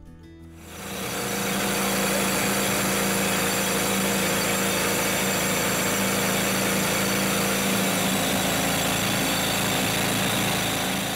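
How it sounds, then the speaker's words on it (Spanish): A steady, loud mechanical drone from a rock drill boring holes into fragile gem-bearing bedrock at a mine, running continuously after a brief start with no pauses. "taladran agujeros y los llenan con dinamita"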